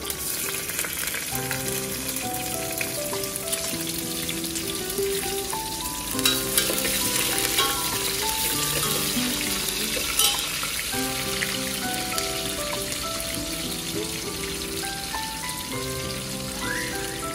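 Onions and green chilies fry in a pan for masala rice, giving a continuous close sizzle with stirring scrapes throughout, while music plays underneath.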